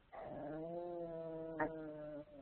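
A dog lets out a faint, drawn-out whining growl with a brief sharper yelp near the end, a low, sustained sound heard at a distance with no one speaking.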